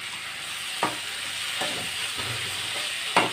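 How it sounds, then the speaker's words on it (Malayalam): Potatoes and curry leaves fry in hot oil for a Kerala-style stir-fry, a steady close sizzle broken by a few sharp scraping stirs of the spoon in the pan. "കുറച്ച് കറിവേപ്പിലും കൂടി ചേർത്തിട്ട് നമുക്ക് നന്നായിട്ട് ഇളക്കി കൊടുത്തിട്ട്"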